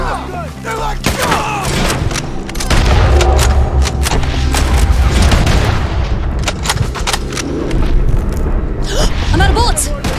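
Dense, loud gunfire and booming blasts in Red Dead Redemption 2 run nearly continuously over ten seconds, with shouting voices breaking in over the shooting.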